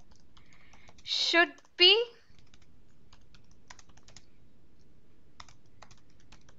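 Typing on a computer keyboard while entering a screen resolution setting during an Automation Anywhere RPA screen recorder tutorial; a steady run of light, close key clicks continues for several seconds after a brief spoken phrase near the start.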